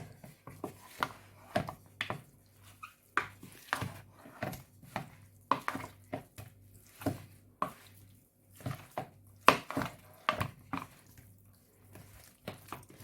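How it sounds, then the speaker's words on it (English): Chicken wings tossed by hand in a sweet chilli marinade give quiet, wet, rhythmic squelches and bowl taps, each stroke a short distinct slap with near silence between. "And I'm going to give everything a mix."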